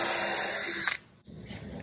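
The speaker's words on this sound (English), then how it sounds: "Let's do a pre-drill just a little bit further away from it over here" A loud power drill spins at high speed boring into wood, then cuts off abruptly, leaving quieter handling noise.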